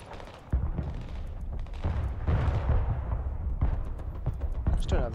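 Cluster artillery fire in the video game Broken Arrow, a continuous rumble of booms and crackling blasts, loud and sustained, with sharper impacts scattered throughout.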